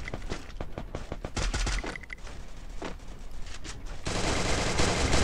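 Rapid bursts of automatic gunfire and single shots in a multiplayer shooter video game, sharp repeated cracks in clusters at close range, followed by a denser sustained rattle toward the end.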